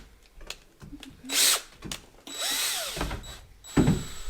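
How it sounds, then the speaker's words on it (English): A power drill whirring in short bursts and driving screws while furniture is assembled from crates in an off-grid home in Portugal, with motor whines rising and falling between clicks and knocks, close and fairly loud. "So we're ready to start drilling and screwing"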